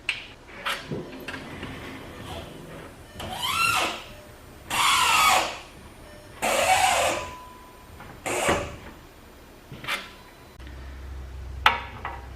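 Impact wrench or ratchet bursts on the 21 mm brake caliper bracket bolts of a MK7 VW Golf, several loud, short whirring and rattling bursts with pauses between, close up, no talking.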